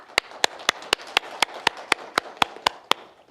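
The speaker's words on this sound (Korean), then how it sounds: "박수해 주십시오." A small audience at a policy forum claps for an introduced professor: about a dozen crisp, evenly spaced handclaps, near and fairly quiet, over a soft room background.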